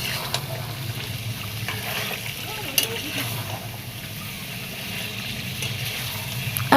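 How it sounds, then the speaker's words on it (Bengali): Chicken is being sautéed with ground spices and Kashmiri chilli powder in a pan over medium flame, with no water added. It makes a steady, moderate sizzle with occasional stirring scrapes and a faint voice underneath. "এই মশলা গুঁড়োগুলো দিয়ে কয়েক মিনিট ভালো করে কষিয়ে নিব।"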